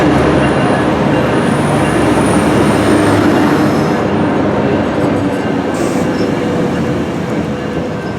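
An Amtrak train rolls past at Glendale, close and loud, in a steady rumble of wheels on rails with faint wheel squeal. A brief high tone near the end could be a horn.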